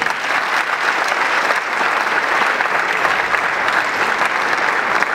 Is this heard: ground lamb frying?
no